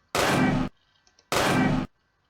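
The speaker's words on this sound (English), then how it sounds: "we need the shooting, so we make a shoot sound" Two heavy shotgun blasts from a Roblox game sound effect, each about half a second long, separated by a short pause with faint clicks. Both are loud and close, with no talking.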